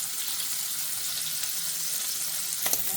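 Frozen shrimp fry in a multicooker with a constant, bright sizzling hiss that stays even throughout, ending with a few faint clinks.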